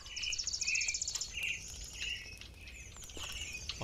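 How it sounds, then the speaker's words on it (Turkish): Birds chirp and tweet in a forest in the survival video game The Forest, several short bright calls in repeated bursts over a faint ambient bed, moderately close, no talk. "Bakın önümüzde kuşlar bile sevindi. Ki cıvıl cıvıl ötüyorlar."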